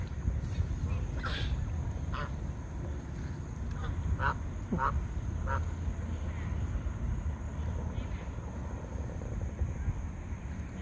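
A duck quacks in short bursts along the Lehigh Canal outdoors, a few scattered calls over steady wind and ambient rumble, moderately near.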